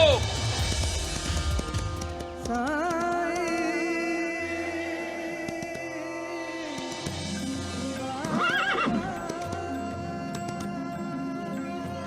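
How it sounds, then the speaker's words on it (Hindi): A mare whinnies in a long, loud neigh, then a second one, with hoofbeats and music-like tones running underneath. "लगता है तुम्हारी घोड़ी ने तुम्हें धूप में खूब दौड़ाया है"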